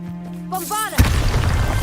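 A Bombarda blasting spell goes off in Hogwarts Legacy: a short rising magical whoosh, then a sudden loud booming burst that settles into a rumbling, crackling tail.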